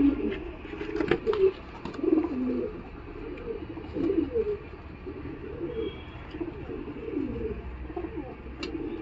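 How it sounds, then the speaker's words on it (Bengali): Kheten pigeons with clipped wings coo repeatedly in soft, rhythmic throaty bursts close by at the Galiff Street pigeon market, with faint background voices underneath. "এটা একটা খতেন পায়রা আছে, ডানাগুলো কাটাই রয়েছে, ভালো খতেন পায়রা রয়েছে।"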